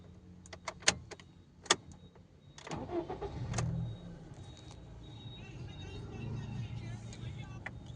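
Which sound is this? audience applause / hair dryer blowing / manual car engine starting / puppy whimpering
manual car engine starting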